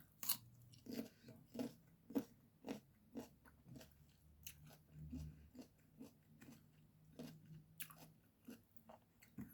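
Crunchy mango is bitten and chewed up close in a quiet room, about a dozen sharp crisp crunches in an uneven rhythm, then softer chewing in between, with no talking.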